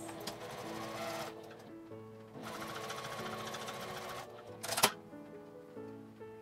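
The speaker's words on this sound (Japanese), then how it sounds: "返し口を内側に寄って端ミシンをかけます" A sewing machine runs an edge stitch along a sewn piece, giving a fast, steady mechanical chatter in two bursts separated by a short pause, with a sharp click near the end; close and fairly quiet.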